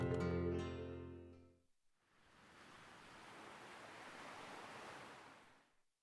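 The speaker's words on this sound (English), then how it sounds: "only the gentle sound of the waves echoing into the night remained" Gentle waves washing at an empty port at night in a video game, a soft steady surf hiss that swells and fades after a brief musical tone at the start.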